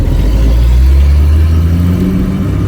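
Car with a rebuilt manual transmission and short-throw shifter pulling away, engine note loud and close, a low steady rumble rising slightly in pitch as it accelerates.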